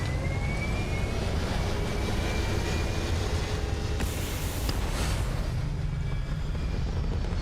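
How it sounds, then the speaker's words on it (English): Spaceship thrusters firing in Starfield, a dense, steady roaring rush of engine noise that holds constant and loud throughout, with a brief brighter hiss midway. "All thrusters firing."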